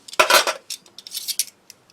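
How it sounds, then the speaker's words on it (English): A German army-issue clipped-together mess set of large spoon, fork and small knife with tin and bottle opener in the handle, clinking and rattling in several close, bright metallic clatters, a loud burst first then lighter taps. "I do actually have a German knife, fork, spoon set, which are issued to the troops."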